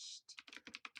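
Keystrokes on a computer keyboard as text is typed, a quick uneven run of close, crisp clicks with short pauses, no voices.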